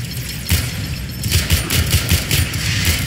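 Gunfire in the video game Warframe: a rapid, loud burst of shots with repeated thumping impacts comes in clusters over about three seconds, and no one speaks.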